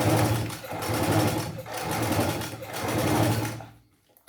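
A domestic sewing machine stitches a zipper seam on a fabric case, whirring loudly in three runs of stitching with brief slowdowns between them, then stopping.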